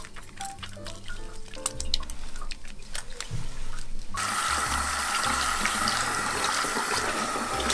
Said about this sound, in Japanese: しっかりと石鹸で泡立てて念入りに洗っていきます。